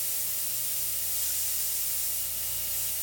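An airbrush sprays paint onto a t-shirt, giving a steady, close, even hiss that runs unbroken and alone throughout.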